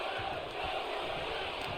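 Arena crowd cheering in the wrestling video game WWE 2K23, a continuous roaring swell of many voices with rising whoops, steady and fairly loud.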